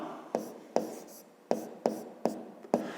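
A pen writes letters by hand for a math exercise, making six crisp separate scratches and taps against paper, close and evenly spaced with quiet in between.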